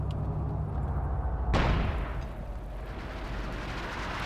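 Katyusha rocket artillery in Company of Heroes 2, a sudden loud launch blast halfway through that rolls into a long, fading rumble over constant battlefield noise.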